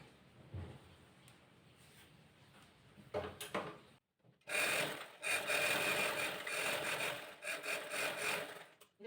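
A sewing machine stitches chudithar pants, with scattered soft handling noises before a loud, continuous rattling run of stitching that pauses briefly and resumes, close by.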